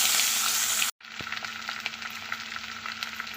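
Onion frying in hot oil alongside fish heads in a pan, a steady close hiss of sizzling that briefly cuts out, then resumes with crackling pops and occasional stirring.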